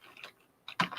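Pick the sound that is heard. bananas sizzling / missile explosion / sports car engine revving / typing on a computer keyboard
typing on a computer keyboard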